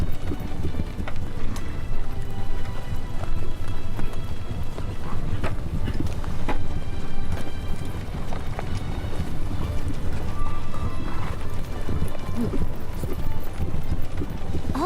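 Dragon carriage racing fast in the Re:Zero video game, a rapid steady clatter of hoofbeat-like footfalls under rushing wind, loud and continuous.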